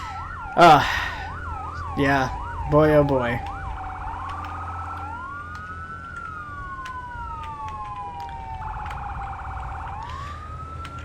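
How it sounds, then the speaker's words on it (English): A fire engine siren from the Firefighting Simulator game wails and yelps in looping electronic sweeps, with someone talking briefly over the start before the siren continues alone at steady volume. "Gonna turn the siren off just so it's a little bit quieter."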